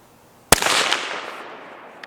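Single sharp, loud rifle shot from a Savage Axis chambered in .300 Blackout, fired outdoors at a 100-yard target, followed by a long echoing rumble that fades, then a faint click near the end.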